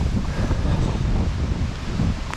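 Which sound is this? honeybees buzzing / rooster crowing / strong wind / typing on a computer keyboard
strong wind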